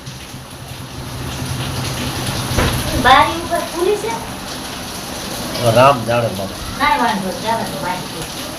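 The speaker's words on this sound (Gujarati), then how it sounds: "આ વરસાદ" Monsoon rain falls steadily as an even hiss outdoors, with a child and an adult talking over it in short bursts.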